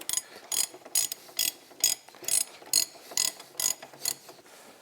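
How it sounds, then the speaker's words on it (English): A big ratchet tightens the new 1.5 inch Camoplast Cobra WT track on a Yamaha VK540 snowmobile. It gives about eleven evenly spaced, close, crisp clicking strokes at a steady pace, with no talk. "big ratchet."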